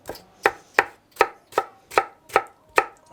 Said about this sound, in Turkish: Sonra yine zırhla üzerinden geçeceğim.